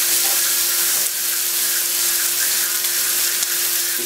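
Fresh green beans hitting a hot pan with a steady, close sizzle and faint stirring clatter, a constant frying hiss with no voices, while Chinese chicken udon noodles are being cooked.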